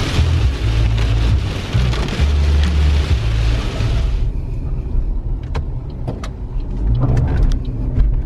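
Steady rain drums on a car driving in New Zealand, a loud continuous wash over low road rumble that thins out partway, leaving scattered drips and heavier drops.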